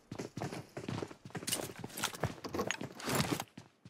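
Footsteps in the shooter game PUBG Mobile land as a quick run of close, fairly loud hard-surface steps, almost a clattering patter, for several seconds before stopping.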